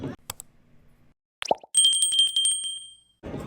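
A notification bell sound effect opens with a short pop, then a bright ringing ding that sustains for over a second before fading.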